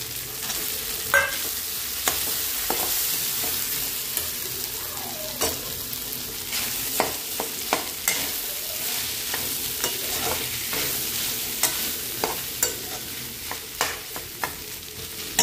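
Cooked rice is stirred into frying Bombay duck in a pan, a steady sizzle under repeated scraping knocks from a spoon against the pan at an uneven pace.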